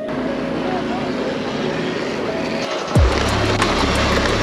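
A Talaria Sting electric motorbike pulls away at a circuit: steady background hum, then a sudden louder whirring surge about three seconds in as it sets off.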